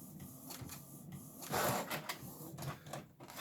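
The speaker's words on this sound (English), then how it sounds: "How long does it take to print the outline out?" A home printer printing a drawing outline runs up close with mechanical whirring and repeated clunks and clicks in short bursts, including a louder rattling pass in the middle.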